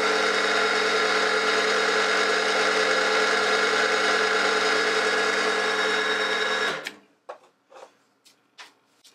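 A spot drill cuts a centre spot into metal on a machine, a loud, steady whine with a constant motor hum that stops abruptly, followed by a few light clicks and knocks.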